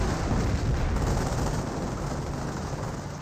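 StuG assault gun shelling from low ground in Company of Heroes, a dense continuous rumble of distant firing and blasts that stays loud and steady throughout.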